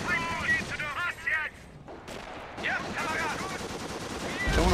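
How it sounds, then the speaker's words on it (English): Machine gun fire and battlefield gunshots ring out in the Company of Heroes Blitzkrieg trench defense game, mixed with bursts of in-game radio chatter and a steady rumble of combat noise. "our machine gun is now up and operational"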